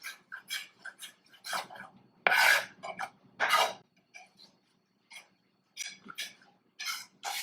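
Garlic is squished and scraped with a knife on a cutting board during a paella cook-along, heard as close, rasping strokes in short irregular bursts separated by brief quiet gaps.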